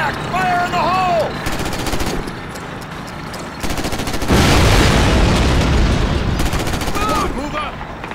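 Planted demolition charges detonate in a World War II shooter set in the town of Foy, a loud boom swelling into a sustained rumbling roar over rapid background gunfire, with voices speaking before and after the blast.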